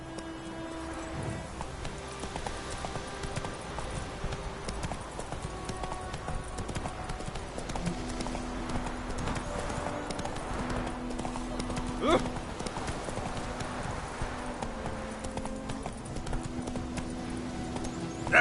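Roach, Geralt's horse in The Witcher 3, gallops with a steady, rhythmic clip-clop of hooves, close and continuous, while a voice talks over the hoofbeats and low game music plays.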